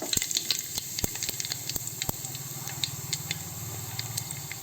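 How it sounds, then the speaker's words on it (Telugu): Mustard seeds, fenugreek and cumin sizzle in a little hot oil in a pan for Andhra tomato bajji, a steady close frying crackle with a few sharp pops scattered throughout, no talking. "ఇప్పుడు ఒక డేక్షాలో కొద్దిగా నూనె, ఆవాలు, మెంతులు,"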